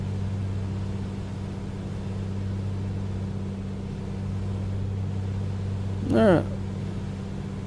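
Steady low drone of a Comanche aircraft engine heard from inside the cabin, constant and even throughout, with a brief rising squeak and a short spoken word near the end.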